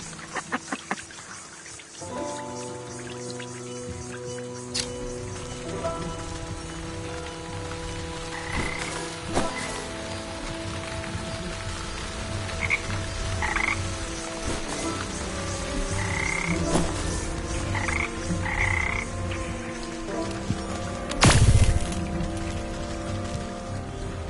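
Frogs croak repeatedly over a busy, layered background with tonal hums and patter, moderately near and continuous, ending with a louder thump; no one speaks.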